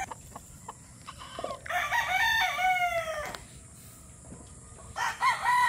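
Boston Black rooster crowing once, a loud, clear drawn-out call rising and falling, followed by brief clucks, close by with faint ambient noise and no talk.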